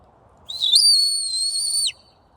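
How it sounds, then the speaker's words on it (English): A shepherd's single sharp, high whistle command to a sheepdog rises, holds steady for over a second, then drops off abruptly, clear against quiet background. "And those are the whistle commands."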